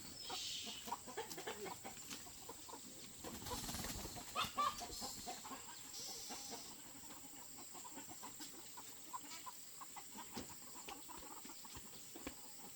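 Chickens cluck near a house by an acacia forest in rural Vietnam, with short, irregular calls over outdoor background noise and a few rustling bumps.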